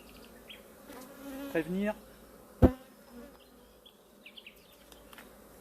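Honeybees from an aggressive hive buzz around a beekeeper's veiled hood, a steady close insect drone under a brief spoken word, with a few sharp knocks and handling noises.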